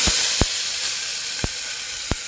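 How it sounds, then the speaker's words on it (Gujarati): Curry leaves, garlic and onion tempering in hot oil give a constant, loud, close hiss of frying, with a few sharp crackles and pops breaking through. "મસ્તનો તડકો લાગ્યો છે"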